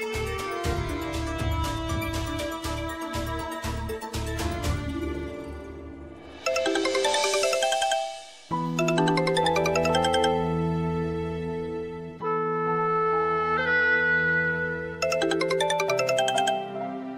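A phone ringtone plays as a steady melodic tune of repeating chimed notes, fairly loud and close, with a short gap partway through and no voices.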